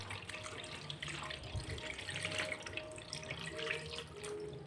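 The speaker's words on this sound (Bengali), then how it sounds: "এখন অল্প ঠান্ডা জল দিয়ে দেব" Cold water runs over freshly boiled homemade noodles in a strainer, a continuous splashing flow like a tap filling a sink, alone and fairly close.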